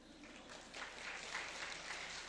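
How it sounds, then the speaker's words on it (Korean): A church youth worship congregation claps in a brief, fairly faint burst of mixed handclaps that swells slightly midway, with no talking over it. "이야, 박수 한번 쳐줘."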